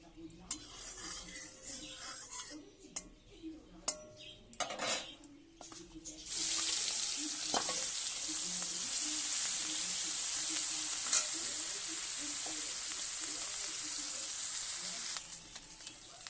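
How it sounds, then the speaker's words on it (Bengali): Shrimp coated in salt and turmeric hit hot oil in a wok, bursting into a loud, steady sizzle that holds for about ten seconds after a few quieter kitchen clatters. "চিংড়ি মাছগুলোকে নুন হলুদ মাখিয়ে নিয়েছি, ভেজে নেব।"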